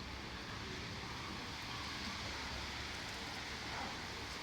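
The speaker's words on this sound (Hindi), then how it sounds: "तो पानी तिरछा बरस रहा है।" Heavy rain blows sideways onto a veranda, a faint, steady hiss of dense rainfall with no distinct drops or voices.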